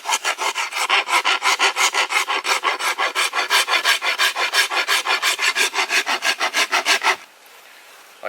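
A rasp works a bamboo bow limb to thin and bevel it, giving about thirty steady, loud scraping strokes in a quick even rhythm before stopping abruptly.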